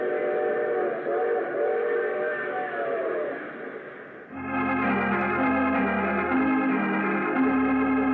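A steam train in an old radio drama rumbles along, then its whistle sounds in long, steady, loud chords over the rolling wheels, holding to the end.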